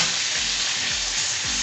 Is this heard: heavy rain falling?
no